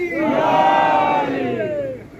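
A crowd at a Muharram procession roars a slogan in unison, one long sustained shout from many voices that swells and then trails off, loud and close.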